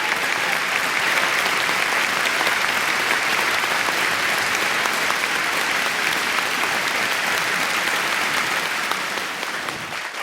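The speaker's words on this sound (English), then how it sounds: "Please do one more thank you applause." A large audience at a gala event gives a long round of thank-you applause, a thick, even wash of many clapping hands holding steady for about ten seconds before softening at the close.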